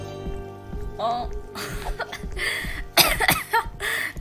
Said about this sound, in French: mais ça me fait tousser là